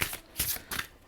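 Tarot cards riffle and slide in three quick bursts of crisp papery shuffling within about a second, close and clear with no voice over them.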